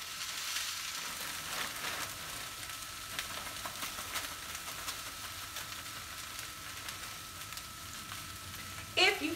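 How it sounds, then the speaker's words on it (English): Egg roll in a bowl sizzles steadily in a hot skillet with olive oil, a soft continuous frying hiss, faint and even throughout, with a brief louder scrape of stirring near the end. "So this is in our skillet, and we're gonna stir, stir, stir"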